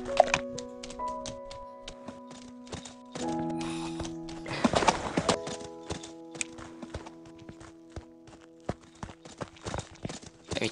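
Hooves clip-clop at a steady rhythm as a horse is ridden in the Horse Riding Tales video game, with thuds, a whinny and game music tones layered over the footfalls.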